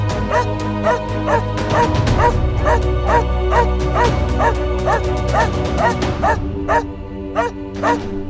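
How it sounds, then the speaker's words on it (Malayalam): Dogs bark loudly and rapidly, close by, in a continuous run of sharp yips and woofs that overlap throughout with hardly a pause. "രാത്രി മുഴുവൻ കുരക്കാൻ ഡോക്ടർ നായകളെ പരിശീലിപ്പിച്ചു."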